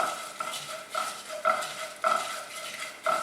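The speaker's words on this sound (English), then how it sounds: "add in my coriander seeds, crushed coriander seeds, and give it a quick stir" Crushed coriander seeds being stirred in a hot pan for spiced dry potatoes, giving repeated scraping strokes in a steady rhythm, close and moderately loud, with no talking.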